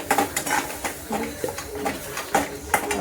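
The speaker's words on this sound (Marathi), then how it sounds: "थोडीशी हळद टाकू आणि चांगला मसाला परतून घ्यायचा तेल सुटेपर्यंत." Spice masala with turmeric being stirred and sautéed in oil in a pan, with repeated clinks and scrapes of a utensil against the metal over a soft background sizzle.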